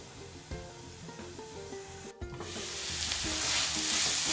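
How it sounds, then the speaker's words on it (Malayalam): Bitter gourd thoran, a Kerala stir-fry of sliced bitter gourd, sizzles and is stirred in a pan, with steady frying hiss and a few scraping utensil knocks. The sizzle swells louder toward the end and no one speaks. "ഇടയ്ക്കൊക്കെ ഒന്ന് ഇളക്കിയിട്ട് കൊടുക്കുക ഒരു അഞ്ച് മിനിറ്റ് നേരം ഇതൊന്ന് വേവിച്ചെടുക്കാം"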